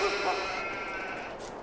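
A single sheep from Farming Simulator 22 gives a drawn-out bleat, clear and close, against the game's steady ambient hum on a winter farm in Hubbard, Nebraska.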